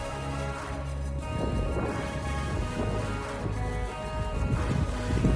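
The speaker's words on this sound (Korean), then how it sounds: "바람 소리 들리세요?" Steady wind blowing and buffeting outdoors on a cold January night in Victoria, a continuous rushing roar with low rumble, fairly loud and close, no voices.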